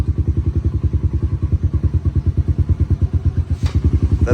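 A Kawasaki KLX140 dirt bike with a heavy-duty clutch idles close by in a steady, loud, rapid single-cylinder putter, with a brief click near the end as it is knocked into gear.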